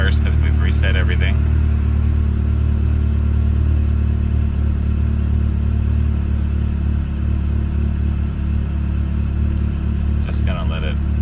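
A Ferrari 360 engine idles after a reset of its settings, a steady low rumble that stays loud and close throughout, with brief higher sounds near the start and end.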